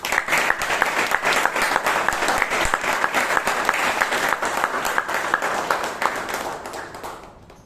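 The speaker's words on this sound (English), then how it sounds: "I want you to give a thunderous applause to each and everybody." A Toastmasters club audience at a meeting in Bangalore breaks into sustained, dense applause that stays loud and steady throughout, then begins to thin out in the last second.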